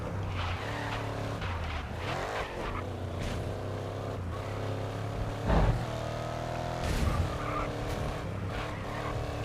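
Race car engine in the GRID Legends racing game roars steadily throughout, with sustained harmonic drone, gear-shift swells and two louder bursts near the middle and end, no voices.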